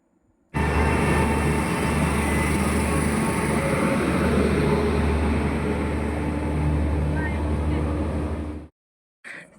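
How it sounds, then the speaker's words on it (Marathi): A loud, steady low rumble of a train arriving close by at a station platform, filling the clip before cutting off abruptly near the end. "प्लॅटफॉर्म क्रमांक सातवर पोचताच काहीच मिनटामध्ये ट्रेन आली"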